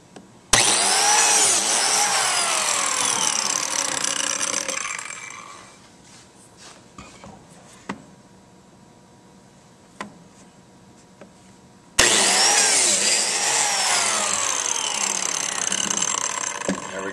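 Power tool cutting slots into a wooden workpiece clamped down for a splay-legged table, a loud sustained whine that drops away to quiet clicks and shuffling midway, then starts again at full volume near the end.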